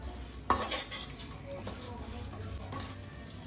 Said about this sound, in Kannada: ಇದನ್ನು ಕೂಡ ಸ್ವಲ್ಪ ಫ್ರೈ ಮಾಡ್ಕೊಳ್ಳಿ.